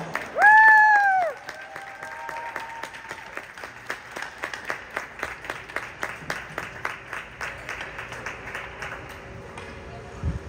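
Crowd at a minor hockey tournament in St. Isidore cheers a team being called up for their banner, then breaks into steady, scattered applause that continues in a rhythmic patter; a whistle-like tone sounds near the start.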